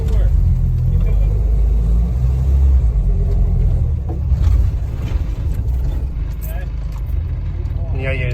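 The engine of a K20-swapped Toyota TA22 rumbles loudly and steadily up close while a winch pulls the car, with voices talking over it.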